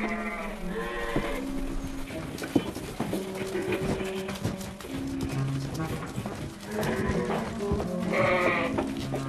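Sheep bleat now and then in a stable over a busy background of shuffling hooves and animal movement, with a faint voice at times.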